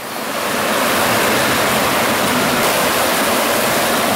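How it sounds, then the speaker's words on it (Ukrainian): Small stream rushing beneath a village house after a heavy downpour, a steady loud broadband wash of flowing water filling the whole moment with no pauses. "Це струмочок, воно тече попід мою хату."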